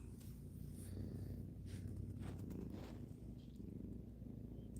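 A cat purrs up close in a soft, continuous low rumble, steady and unbroken, with nothing else prominent over it.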